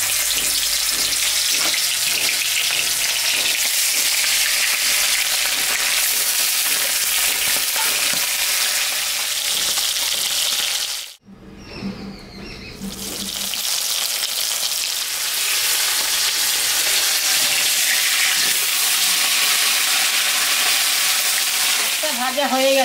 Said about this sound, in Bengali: মাছটা এখন আমি ভাজবো।